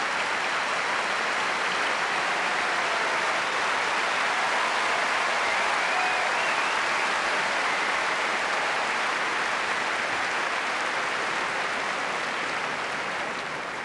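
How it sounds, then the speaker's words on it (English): A packed Wimbledon centre court crowd gives sustained, rich applause after a men's tennis match between Sampras and Sanchez, a dense, steady wash of clapping that holds throughout and eases slightly at the end. "rich applause from a packed centre court who have enjoyed a tremendous demonstration of brilliant all-court tennis from both men"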